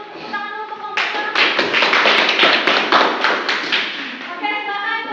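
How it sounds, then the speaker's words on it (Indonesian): A class of students applauds a student group after its physics presentation, with dense, sustained clapping from many hands that swells, holds for several seconds and then tapers off, with a voice speaking before and after. "Tepuk tangan dulu untuk kelompok 2."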